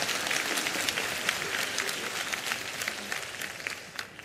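A comedy stand-up audience claps in steady, dense applause that holds at an even level throughout, with no talk over it.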